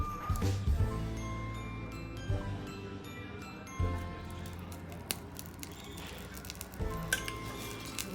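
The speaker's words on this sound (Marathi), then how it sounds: "वाटीमध्ये काढून घ्यायचे कोळसे आणि आता वरून तूप टाकणार आहे" Ghee hits hot charcoal set in a small bowl inside a pan of chicken kharda, giving a sizzle and crackle, with metallic clinks from utensils, a few louder knocks and low background hum.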